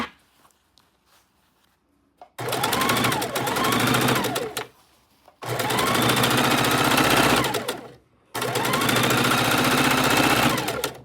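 A sewing machine stitches rows of quilt fabric in three loud bursts of steady whirring, each lasting a few seconds, separated by brief silent pauses while the fabric is repositioned.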